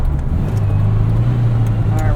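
Modified 1966 Volkswagen Beetle engine revving under way, a loud, steady low drone with a sustained rising hum and road noise throughout.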